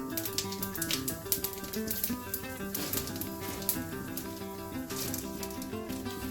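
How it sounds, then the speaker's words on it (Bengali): Cumin, bay leaves and dried red chilies sizzle in hot oil for a Bengali dal tempering, a steady close crackle with a dense patter of fine pops and no talk. "ফোড়নের জন্য দিচ্ছি হচ্ছে জিরে, তেজপাতা, আর দেব 2-3টে শুকনো লঙ্কা"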